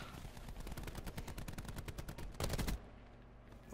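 Rapid automatic gunfire in a Black Ops 4 match, a fast steady stream of close shots lasting several seconds, ending with a louder final burst before dropping to quiet background.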